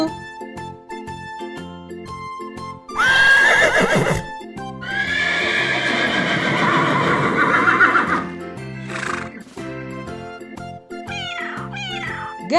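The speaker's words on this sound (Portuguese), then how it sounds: "Cavalo." A horse neighs loudly in a long, shaky whinny, followed by meowing cat calls, all set over a bouncy children's farm tune with a steady beat.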